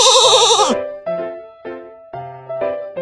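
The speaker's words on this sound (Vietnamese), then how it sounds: "Cừu." A sheep bleats in the Baby Panda mobile game, a wavering cartoon bleat that opens the moment, followed by bright chiming game tones with no talk over it.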